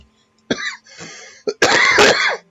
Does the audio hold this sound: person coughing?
yes